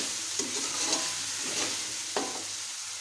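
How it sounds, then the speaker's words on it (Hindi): Chicken fries and is stirred in a pan for an aloo chicken curry, giving a continuous sizzle with several soft scraping stirs and light knocks, close up and with no talking. "तो हम अच्छी तरह भून लेंगे और"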